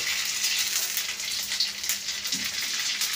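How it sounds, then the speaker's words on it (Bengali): Food sizzling and crackling in hot oil, a steady bright hiss with small pops, heard alone at a modest level. "ওই দেখো ভাজা হচ্ছে,"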